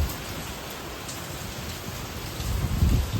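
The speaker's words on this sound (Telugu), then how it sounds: "ఫుల్ వర్షం పడుతుంది," Heavy rain pours down steadily as a dense, hissing wash of drops, loudest in the final second.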